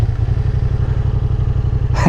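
A Yamaha MT-07 motorcycle with a new aftermarket exhaust idles and revs up close, giving a steady, loud, throbbing engine pulse throughout with a rising rev at the very end.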